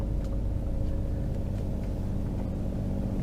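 Low, steady V6 engine hum from an Alfa Romeo 164 V6 Cloverleaf heard from inside the car while moving slowly through a car park, even and rumbling without revving.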